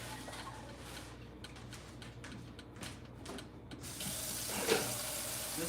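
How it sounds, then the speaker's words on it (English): Hot water runs from a kitchen sink tap into a skillet used for lasagne, a steady rushing splash that grows louder and fuller near the end as the pan fills, with no talking. "And then I'm going to put water in my pot here, my pan,"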